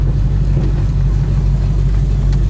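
Deep, steady idle rumble from the dual exhaust of a 1972 Ford Mustang convertible, loud and close with no talking.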